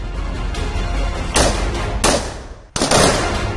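Three loud, sharp gunshots from a paratrooper commando firing drill ring out at irregular intervals over a constant low rumble of outdoor noise.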